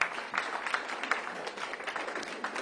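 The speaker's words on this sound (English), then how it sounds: "Give her a round of applause" Audience applause fills a church gathering, a steady wash of many hands clapping at moderate distance. It sounds fairly quiet and continuous, with no voices standing out.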